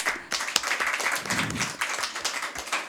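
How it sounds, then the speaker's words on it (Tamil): An audience at a Tamil astrology school gathering applauds in a dense, sustained burst of clapping that stays steady and loud throughout. "எல்லாம் ஜோராக கைத்தட்டுங்க"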